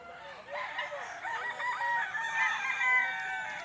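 A Sims Black gamefowl rooster crows close by, its strained, wavering call stretching across most of the few seconds over faint background noise.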